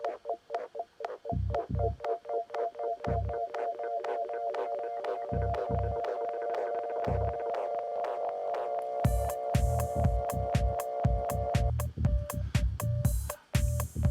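Glitchy electronic stutters in a live music set: rapid chopped bursts and sustained tonal drones, with punchy low thumps in irregular rhythm that grow denser and brighter toward the end, loud and close with no voices.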